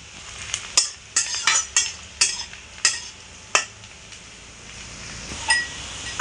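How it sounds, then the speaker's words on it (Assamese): Onions frying in a pan until golden brown for an elephant apple fish curry, with repeated sharp scraping and stirring clinks from a spatula against the pan over a steady soft sizzle. "পিঁয়াজখিনি মানে গল্ডেন ব্ৰাউন হোৱাকৈ প্ৰথমতে ফ্ৰাই কৰি ল'ব"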